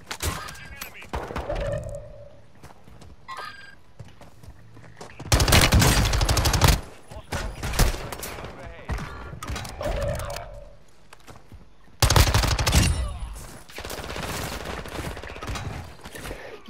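Machine gun fire in Call of Duty Resurgence on Ashika Island's town centre, loud sustained bursts in two long volleys with quieter gunfire and game noise between them, players talking over it.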